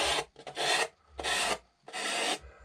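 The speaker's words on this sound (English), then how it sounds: "Sanding down." Sandpaper rasps in three firm back-and-forth strokes over the paper covering of a Guillow's Piper Super Cub rubber-powered model airplane, each scratchy pass separated by short pauses, close and clear.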